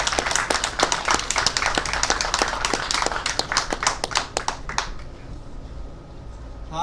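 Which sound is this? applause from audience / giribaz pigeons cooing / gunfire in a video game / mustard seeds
applause from audience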